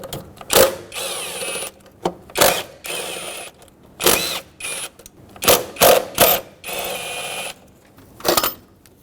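A 10mm socket ratchet backs out throttle body bolts on a 2011-2016 Ford F-350 with a 6.2L V8, in repeated short bursts of rapid clicking separated by brief pauses, close up and with no talking.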